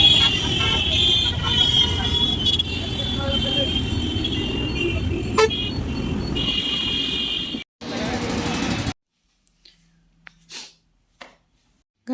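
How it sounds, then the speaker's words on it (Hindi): Busy road traffic in Lucknow rumbles loudly with car and motorbike engines and repeated horn toots, then the noise cuts off into near silence with a few faint clicks. "आप थोड़ी देर देखिए लखनऊ में ट्रैफिक कितना है।"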